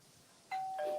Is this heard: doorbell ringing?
yes